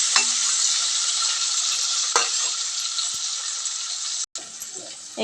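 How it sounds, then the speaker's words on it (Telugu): Brinjals fry in a kadai with a loud, continuous hiss and sizzle of hot oil up close, broken by a few sharp crackles and one brief gap. "ఇప్పుడు కడాయిలో వంకాయలు వేసుకుని బాగా వేయించుకోవాలి"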